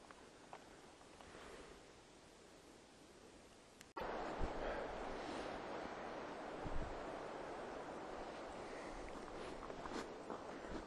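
Steady wind rushes through a forest campsite near Pretty House Arch in Daniel Boone National Forest, a broad airy roar with buffeting on the microphone that grows noticeably louder partway through.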